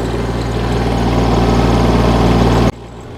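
A tractor engine runs loud and close in third gear while working a garden plot, a constant heavy rumbling drone that cuts off abruptly near the end, leaving a quieter background.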